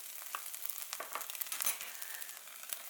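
Meat stir-frying in a hot pan for Korean chive japchae, a steady close sizzle with scattered crackles and stirring scrapes throughout.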